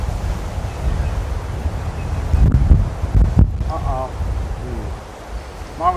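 Strong wind blows across a golf course, buffeting the microphone in heavy gusts, with brief voices near the end.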